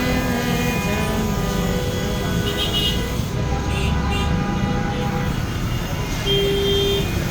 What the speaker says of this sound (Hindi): हॉर्न की आवाज़ें हैं